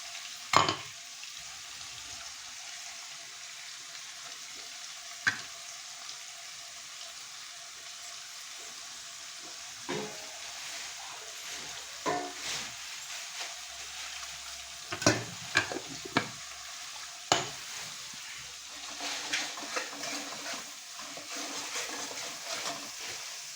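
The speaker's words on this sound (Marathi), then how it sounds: "हे वाटण चांगलं तेल सुटेपर्यंत तेलामध्ये परतून घ्यायचं" Ground masala paste fries in oil with a steady, soft sizzle, broken now and then by sharper scraping stirs of a spatula in the pan.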